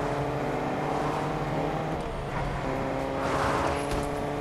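A car passing on the left during a drive, heard as a steady broad engine and road roar with a slight swell toward the end, continuous and fairly close.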